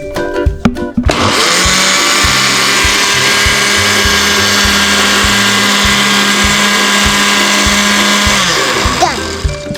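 A blender runs loud and steady for about eight seconds while blending a strawberry smoothie, starting abruptly after a few clicks and winding down at the end, with a voice briefly heard near the start.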